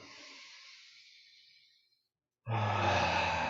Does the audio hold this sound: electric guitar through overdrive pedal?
no